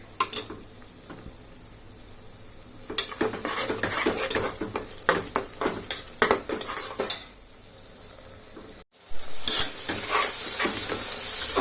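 Shallots fry in a pan for seeraga samba mutton biryani, with quiet sizzling under a busy run of metal spoon scrapes, clinks and stirring knocks.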